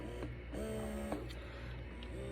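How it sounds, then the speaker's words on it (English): Momcozy cordless double breast pump in let-down mode, a close motor hum rising and falling in repeated short cycles, quiet and mechanical, with no voices. "5 quick pumps, and then it's gonna do 1 long expression."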